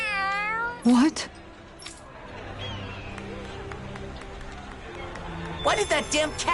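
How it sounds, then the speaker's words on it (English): A cat in the video game Tales of Arise: Beyond the Dawn gives a loud meow up close, then scampers off with faint patter, and game characters talk before and after it. "Why did that damn cat run away?"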